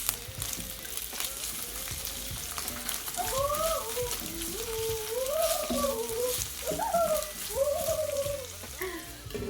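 Carrots, onion and green peas fry in a pan with a steady close sizzle, while a voice drifts in and out over it.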